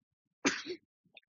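A single short, sharp cough burst from a child, close by, followed by a few faint small noises in otherwise quiet surroundings.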